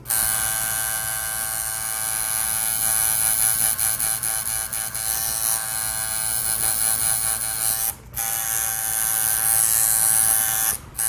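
A rotary tattoo machine hums and buzzes steadily while shading, close and continuous, with two brief drop-outs near the end and no talking.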